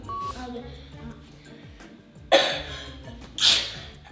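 A sneeze at home, heard as two sharp bursts of breath in quick succession about a second apart, close and fairly loud against a faint background murmur.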